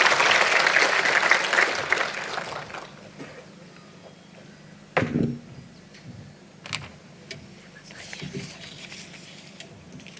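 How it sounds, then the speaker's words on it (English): An audience at a company annual general meeting claps loudly at first, and the applause soon fades to a few scattered claps and faint knocks. "I will request him to sit down with a clap from you for his good work."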